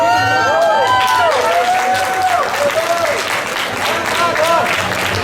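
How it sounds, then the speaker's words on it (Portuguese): Church congregation at a miracle service applauding, sustained loud clapping and crowd noise with a voice speaking over it. "Vamos aplaudir."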